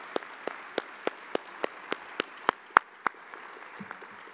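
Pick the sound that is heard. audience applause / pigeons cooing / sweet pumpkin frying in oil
audience applause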